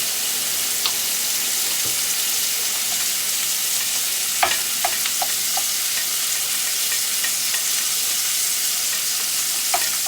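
Bacon and sausage fry in a pan on a kitchen stove while the fan runs, giving a steady close-up sizzle and crackle with scattered sharp grease pops and no talking.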